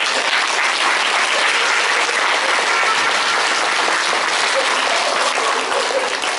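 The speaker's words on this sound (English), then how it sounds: "So I'd like to give them a round of applause." A crowd at an elementary school field opening gives a round of applause, a thick, continuous roar of many hands clapping at steady loudness from start to finish, with no talking over it.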